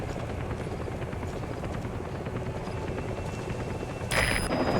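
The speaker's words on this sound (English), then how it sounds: "Support helicopter has arrived." In the Metal Gear Solid V game, a support helicopter arrives with a steady, loud rotor roar that thuds throughout, and a brief electronic tone cuts in near the end.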